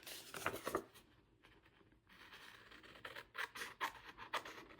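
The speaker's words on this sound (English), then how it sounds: "first thing you wanna do is cut out the actual wrapper" Scissors snip through a paper fruit snack wrapper, a quiet run of crisp cuts and soft paper rustles, clustered at the start and again toward the end, with no talking.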